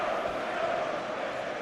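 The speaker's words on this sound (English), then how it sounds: "You can hear the crowd." Crowd noise fills a football stadium before an Oxford v Wycombe promotion match, a steady broadband roar of many voices with no distinct peaks, heard at a distance.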